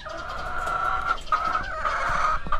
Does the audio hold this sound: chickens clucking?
yes